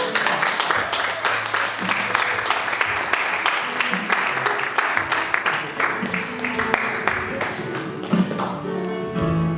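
A church congregation claps and cheers in steady, dense applause that fills the space, with scattered taps and a few voices rising near the end.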